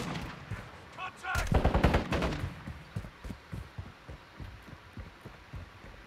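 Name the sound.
gunfire from AI enemies in Call of Duty video game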